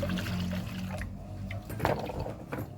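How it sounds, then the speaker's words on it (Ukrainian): Hot water pours from a garden watering can into a container to dissolve plant fertilizer. It is a close, continuous splashing pour that thins to a trickle near the end, with no talking. "І виливаю я ось такий в мене садовий чайник гарячої водички."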